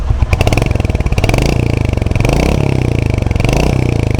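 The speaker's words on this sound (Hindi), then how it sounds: "एग्जॉस्ट नोट एकदम बढ़िया थंप वाला है इसका।" Royal Enfield Hunter 350 motorcycle idling close to the exhaust, a loud, rapid, even thumping pulse that continues steadily throughout with no talk.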